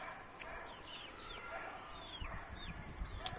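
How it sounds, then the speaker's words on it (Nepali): Backyard chickens kept at a home, a flock of about eighteen or nineteen birds, make faint, soft clucks and chirps at a distance over quiet background noise, with one slightly sharper call near the end. "कुखुराहरू पनि घरमा 18-19 छ"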